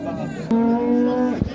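A Simmental cow at a livestock market in Elbistan gives one loud, close moo that holds steady for about a second before breaking off.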